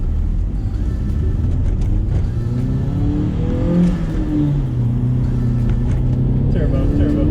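A Hyundai Genesis Coupe 2.0t turbo fitted with an AEM intake accelerates, its engine note rising and falling steadily for several seconds with loud, continuous intake and turbo whir, and a voice briefly speaks over it.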